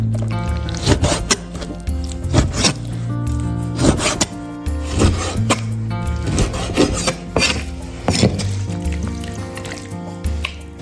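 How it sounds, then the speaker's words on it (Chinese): A knife cuts deboned chicken thighs into chunks on a board, giving close, irregular scraping and thudding strokes in quick bursts with short pauses between. "切成麻袋块大小。"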